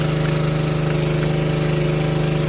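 A noisy hydraulic lift runs steadily, a loud droning motor hum with a fast even throb and no pauses or voices.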